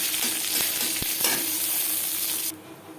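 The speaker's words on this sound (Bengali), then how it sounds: "পাঁচফোড়ন শুকনো লঙ্কা ভাজা হয়ে গেছে" Panch phoron spices and a dried red chili sizzle steadily in refined oil in a pan with a few stirring clinks, then the hiss drops off abruptly near the end.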